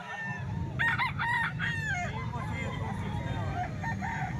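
Chickens at a market, with a rooster crowing loudly nearby in a burst of repeated calls, then softer clucking, over a busy background murmur.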